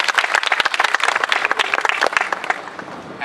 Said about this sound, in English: I think they deserve a round of applause for the best effort that they